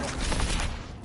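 Confringo fire spell cast in Hogwarts Legacy, a brief, dense burst of crackling blast noise lasting about a second, loud and close.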